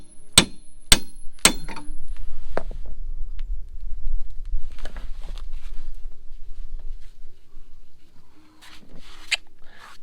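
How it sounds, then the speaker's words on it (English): New bushings being pressed into a Jeep Cherokee XJ suspension part with a socket: three sharp metallic hammer strikes open the clip, followed by scattered quieter clanks and scraping taps close by. "try to get these new bushings pressed back in here"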